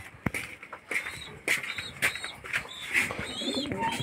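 Racing pigeons in a loft coo repeatedly nearby, with short rhythmic calls recurring about every half second among scattered clicks and light rustling.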